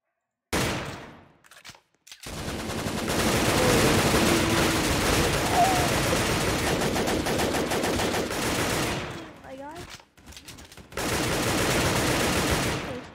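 MG4 machine gun fire in a video game pours out as dense, sustained automatic bursts, loud and continuous for several seconds, broken by short silences before firing resumes.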